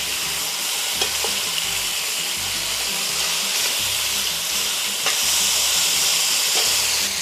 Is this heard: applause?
no